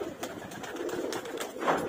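Female pigeons sunning outdoors give soft, low cooing calls, a few faint rising coos scattered across a steady background hiss, with one slightly louder call near the end.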